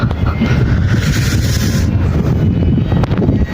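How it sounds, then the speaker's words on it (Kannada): Strong wind at the hilltop Savadatti Fort buffets the microphone with a loud, continuous low rumble and gusty roar, with no voices. "ಮಸ್ತ್ ಗಾಳಿ ಐತೆ ನೋಡ್ರಿ ಇಲ್ಲಿ"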